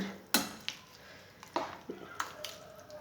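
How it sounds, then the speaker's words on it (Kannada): A spoon stirring bisi bele bath made with green chillies and ration rice in a metal pot, giving a few sharp scraping clinks against the pot amid soft squishy mixing, quiet and close. "ಈಗ ಬಿಸಿಬೇಳೆಭಾತ್ ಈ ಥರ ಮಿಕ್ಸ್ ಮಾಡಿಬಿಟ್ಟು"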